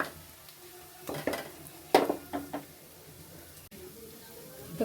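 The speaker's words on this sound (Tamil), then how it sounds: "ஏன் இஞ்சி போடணும்னா நல்லா எண்ணெயில் இஞ்சி முறிஞ்சிருச்சுன்னா அந்த எண்ணெயில் இஞ்சிக்குள்ளே மனம் ஏறி வரும்." Ginger fries in hot oil for a Kerala fish curry, a faint crackle under a few clinks and scrapes of a spoon against the pan, with quiet kitchen noise between the sharper taps.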